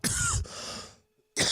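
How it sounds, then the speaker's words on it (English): A single hard cough bursts out, loud and close, with a rough trailing exhale, then a short silence before a second burst starts at the end; no talking. "You would not cough like that if it was boof weed."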